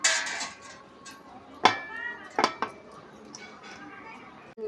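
A metal pot being covered with its lid in a home kitchen before three large raw mangoes are boiled, with a few sharp clanks and clinks standing out near and fairly loud over faint background noise.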